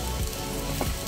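Boiled potatoes frying with spices in a pan give a loud, close, continuous sizzle, with a couple of stirring scrapes through it.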